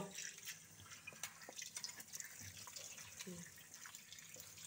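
Halved kakrol (spiny gourd) being rinsed under running tap water at a sink, with soft, faint splashing and scattered drips throughout.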